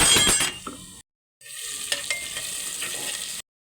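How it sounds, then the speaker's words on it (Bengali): Ground shrimp heads fry and hiss in hot oil as a spoon stirs them, close and bright, with a short break of silence in the middle before the sizzling resumes. "এই তেলের মধ্যে একটু ভালো করে নেড়ে নেব।"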